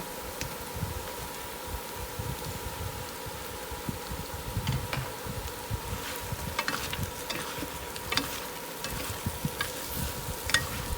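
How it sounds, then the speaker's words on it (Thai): Pieces of fried sea bass hit a hot pan with chili, garlic and salt, giving a steady close sizzle under a continuous crackling fry, with light scraping stirs throughout. "ผัดพอเขามีกลิ่นฉุนหอมนะคะ เราก็ใส่ ปลาที่เราทอดลงไปได้เลยค่ะ"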